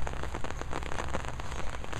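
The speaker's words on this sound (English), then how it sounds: "Man, it's raining." Rain falls steadily onto nearby surfaces outdoors, a dense, continuous patter of small drops tapping close by with no voices.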